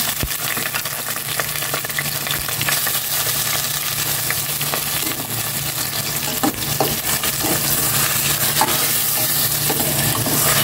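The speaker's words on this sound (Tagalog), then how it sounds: "igisa ko na rin itong atay balunan" Chicken liver and gizzard sauté in a pan at a home stove, a dense, loud, continuous sizzle with stirring scrapes and clicks throughout, no talking.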